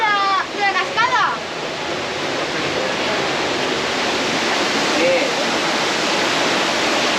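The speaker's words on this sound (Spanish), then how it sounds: "Estamos debajo de la cascada" Roaring waterfall at Monasterio de Piedra, heard from directly beneath the cascade as a loud, steady wash of falling water, with a brief burst of voices near the start.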